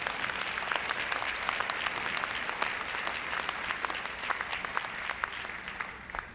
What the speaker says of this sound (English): Give historically black colleges a round of applause.